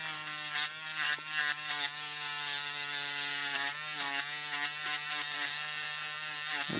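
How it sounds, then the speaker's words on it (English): A Dremel rotary tool fitted with a polishing bit runs with a steady, close, buzzing whine and slight wavers in pitch as it grinds back and forth, with no speech over it. "the tip I'm using in this Dremel, that is really just a polishing bit"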